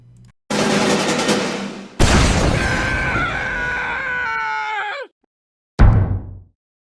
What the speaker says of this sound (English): For this demonstration, I'm using the training weapon called the rocket jumper instead of the rocket launcher